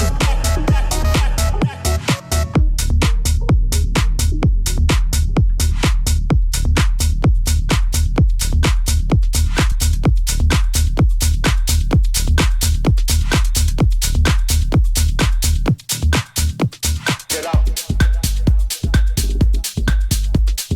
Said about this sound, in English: you mix the intro of the incoming track into the outro of the track that's already playing